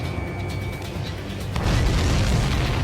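Missile launch in the jet combat game Ace Combat 7: a steady low rumble swells into a louder roaring rush partway through and holds to the end.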